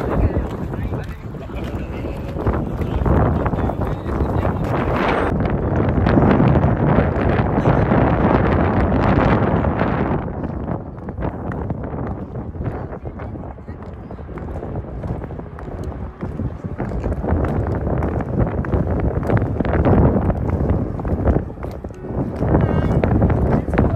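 Strong wind buffets the microphone in loud, continuous roaring gusts, with voices faintly audible underneath.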